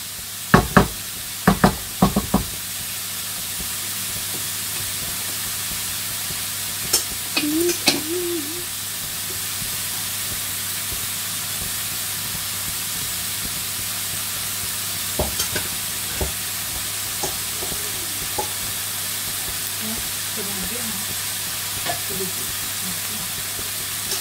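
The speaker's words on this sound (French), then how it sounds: "on laisse cuire, simplement, en n'oubliant pas de remuer un petit peu, pour éviter que ça assèche" Ground meat frying in a pan for a three-meat hachis parmentier sizzles with a constant hiss, punctuated by several sharp knocks and scrapes of stirring near the start and scattered through, with brief faint voice sounds midway and later.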